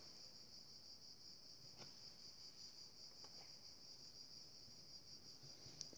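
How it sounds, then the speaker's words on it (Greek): Cicadas droning outdoors: a steady, faint, continuous high buzz that holds unbroken throughout, with a few soft clicks and no speech. "τζιτζίκια απ' έξω"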